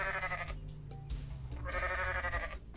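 Goat bleating in the video game Goat Simulator: two loud, wavering bleats, the first around the start and the second in the latter half, over a low steady game background.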